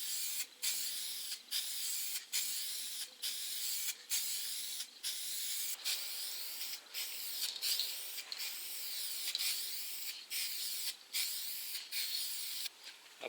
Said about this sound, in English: I'm trying to overlap my spray as well.